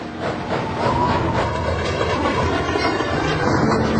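A passenger train crossing a bridge in a violent gale rumbles steadily along the tracks with a continuous roar and faint rhythmic clatter, close and loud throughout.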